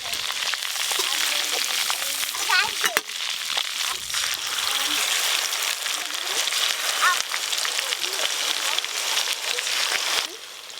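Chicken pieces fry in hot oil with a continuous crackling sizzle, close and fairly loud, broken by occasional clinks of a utensil and brief background voices.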